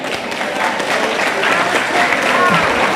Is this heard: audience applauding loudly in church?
yes